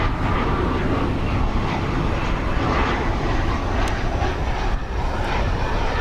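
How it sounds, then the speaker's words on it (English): An American Eagle airliner arriving over Dallas Fort Worth airport on a hot day, its engines roaring loud and steady as it passes close overhead. "It's another American Eagle plane."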